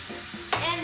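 Jerk chicken browning in a pan, a steady sizzle with a sudden louder burst of frying as the meat shifts, close and alone without talk.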